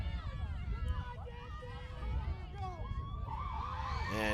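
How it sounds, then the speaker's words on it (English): An end-of-half siren at a high school field hockey game, rising and wavering near the end over a commentator's voice and crowd noise. "Siren sounds."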